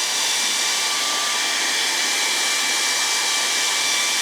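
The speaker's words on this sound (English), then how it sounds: "you want to heat up the boot first with the hair dryer" A hair dryer blows hot air onto a hiking boot, a loud, steady whooshing roar with a faint high whine that holds unchanged throughout, close and alone with no talking.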